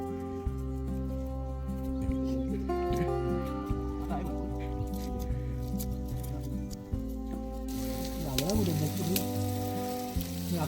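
Fresh fish fries in hot oil with a steady, loud sizzle that runs throughout, set under music at a party outing by a dam.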